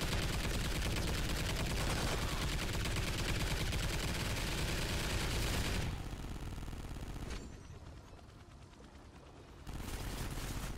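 Automated sentry guns firing in a first-person shooter game's alien-hive extinction mode, sustained rapid gunfire filling most of the stretch, easing to a quieter lull before resuming.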